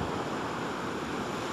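Sea waves wash on the shore in a steady, broad rush of surf mixed with wind noise, continuous and fairly close for a brief moment with no voices.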